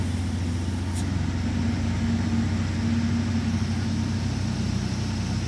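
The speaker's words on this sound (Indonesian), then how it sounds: "Truk box Fuso." A Fuso box truck climbs a hill with a steady, low engine hum that drones evenly throughout at moderate volume.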